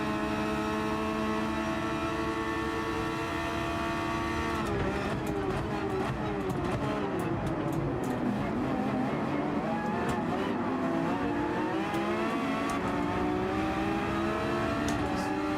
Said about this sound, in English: Should go right past me on the straight here, this car.